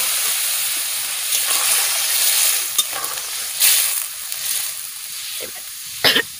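Fish curry poured into a hot pan, bursting into a loud, continuous sizzle and hiss with spattering crackles that rise and fall, plus a few sharp clatters near the end.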